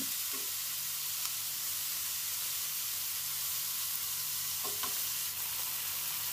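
Sate taichan brushed with liquid margarine cooks on a stove with a steady, close hiss of sizzling fat, a few faint clicks of skewers or utensils, no talk.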